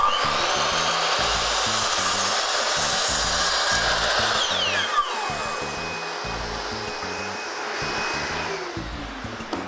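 A miter saw cutting through wooden molding, with a continuous, loud whining buzz that holds steady for several seconds as the blade moves through the cut. The sound is close and has no talking over it.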